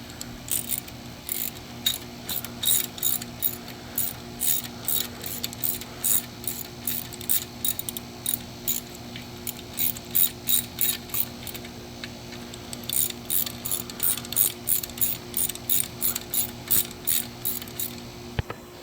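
A 12 millimeter ratchet wrench clicks engine bolts tight during a Kia Soul engine swap, playing as repeated bursts of sharp, close ratcheting clicks separated by brief pauses, with a low steady hum underneath.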